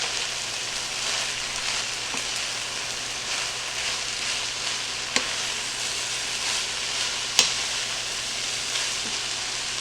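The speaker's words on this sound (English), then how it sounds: "I'm going to mix this all together." Egg roll bowl ingredients stirred together in a frying pan, a steady close sizzle with soft scraping and a couple of sharp utensil clicks against the pan.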